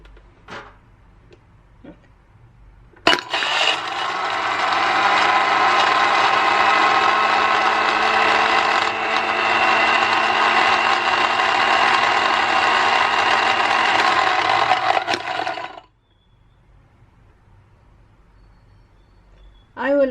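An electric blender crushes strawberries for a milkshake, its motor starting abruptly into a loud, steady whir that runs for about twelve seconds before stopping, with quiet handling sounds before and after.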